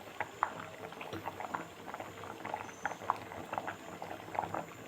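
Rice and colostrum milk sweet bubbling at a steady boil in a pot, with soft irregular pops and plops close by and no talking.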